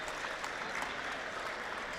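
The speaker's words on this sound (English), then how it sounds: "The crowd gives a big hand to Barrick Olden as he is helped up" Steady applause from a basketball crowd at a college men's game between St. Francis (Ill.) and Judson, clapping continuously for an injured player as he is helped up; dense, even, moderately distant, with no voices over it.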